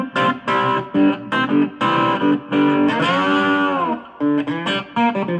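An electric guitar played through a Roland MicroCube amp with distortion rings out as loud, sustained, overdriven notes and chords in a classic rock phrase, including one bending note, with brief gaps between phrases.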